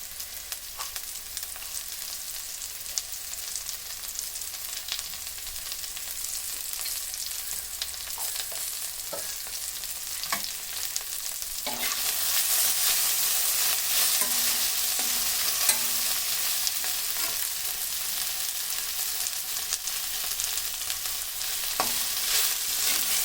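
Colocasia pieces frying in oil until crisp and golden, a steady close sizzle with occasional stirring scrapes, growing louder and hissier partway through.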